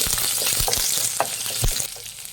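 Ginger, green chilli and onion fry on a medium flame with a dense crackling sizzle, broken by several spoon knocks and stirring scrapes, easing slightly toward the end.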